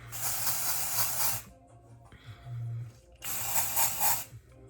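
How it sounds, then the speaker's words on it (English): Dry shampoo is sprayed into hair in two long, close hissing bursts with a short gap between them, and faint handling noise in the pause. "I'm just gonna put dry shampoo in and like section off my hair"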